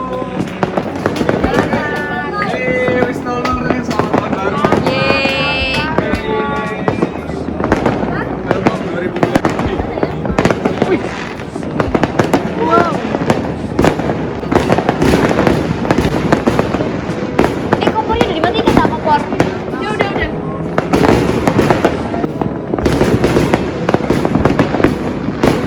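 New Year's midnight fireworks in Indonesia pop and crackle in dense, continuous bursts, with people talking and cheering throughout the noisy celebration.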